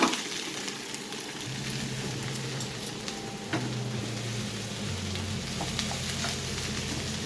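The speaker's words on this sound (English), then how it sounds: "So when your onions are starting to turn a little glossy here, starting to turn a little brown, I'm going to throw in our peppers now." Onions and peppers frying over high heat in a pan make a dense, steady sizzle with a few stirring clicks, close and continuous.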